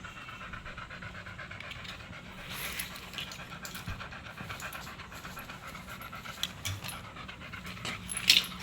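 A dog pants steadily outdoors, quick rhythmic breaths at close range over a faint steady background, with occasional soft whimpers and no talking.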